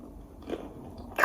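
Someone bites into a slice of sourdough French toast at a London brunch. A faint, close crunch comes near the end after quiet room sound, and no one speaks.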